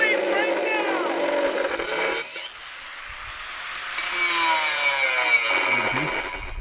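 Jason cuts a skin sleeve during customization of a ReadyLIFT Jeep at an off-road gathering: a loud, rasping saw-like cut over the first two seconds, then a quieter scraping and grinding stretch, with people talking nearby throughout.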